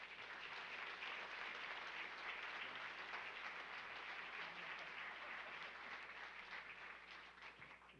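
An audience at a morning political event applauds to welcome a speaker, a dense, even wash of clapping sustained throughout and tapering slightly at the end, heard from a distance and fairly faint.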